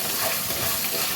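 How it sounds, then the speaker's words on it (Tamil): Onions with ginger garlic paste sautéing in oil in a pan while chicken liver fry is being made, a steady close sizzle and hiss with light stirring throughout, no voices. "நல்லா வதங்கின அப்புறம் இஞ்சி பூண்டு பேஸ்ட் அதை கொஞ்சம் சேர்த்துக்கோங்க"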